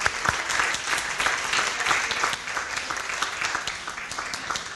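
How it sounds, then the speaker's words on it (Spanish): An audience at a citizen dialogue on caregivers in Chile applauds the panelists with sustained, fairly loud clapping, many hands at once, tapering a little near the end. "Un aplauso grande para todos nuestros panelistas."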